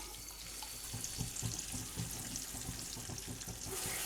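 Coarsely ground onion paste, from two large onions, sizzles and crackles steadily in hot oil with cumin while frying toward golden brown for a thick mutton gravy, a continuous close hiss with popping bursts throughout.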